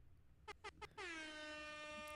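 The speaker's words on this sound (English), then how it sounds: "we still got to give you the air horns" An air horn sound effect gives three short, sharp blasts and then one long, loud, steady blare that holds to the end.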